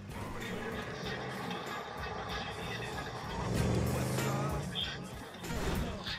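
A car driving in GTA V Online, a steady engine rumble with road noise that swells around the middle and again near the end, heard under players' voice chat.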